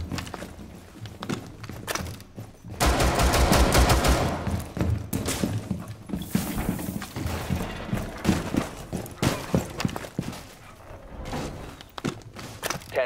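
Rapid bursts of gunfire with scattered footsteps and thuds in a Rainbow Six Siege House hostage team deathmatch, loud and dense for several seconds, then thinning into sporadic sharp shots.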